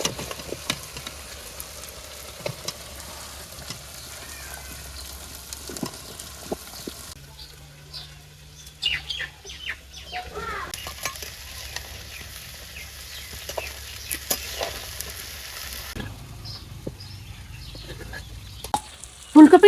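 Cauliflower tipped into a pan of fried spiced shrimp, a low steady sizzle with scattered stirring clatters and scrapes, the frying hiss rising louder partway through and continuing to the end.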